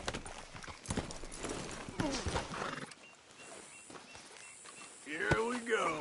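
A horse in Red Dead Redemption 2 snorts and whinnies, with hooves clopping on the ground nearby and a loud neigh near the end.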